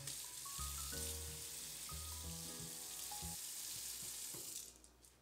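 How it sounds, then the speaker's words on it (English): Hands are washed under a running tap at a kitchen sink, giving a soft, steady hiss of flowing water with faint melodic tones over it, quiet and continuous until it tapers off at the end. "let me wash my hands so we can begin."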